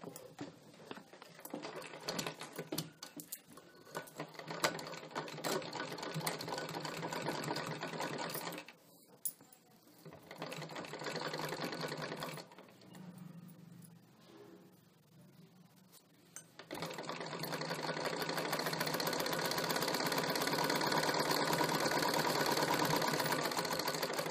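Sewing machine stitching a single katori blouse, humming in a long uneven run that dips and pauses midway, then settles into a steady, louder continuous stretch to the end.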